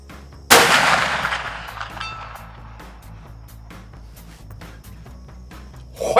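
A single sharp rifle report from a CVA Optima black powder rifle fired at a 322-yard target, loud and close, followed by a decaying echo and quiet handling noises.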